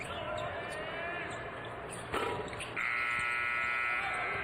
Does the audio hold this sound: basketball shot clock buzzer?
yes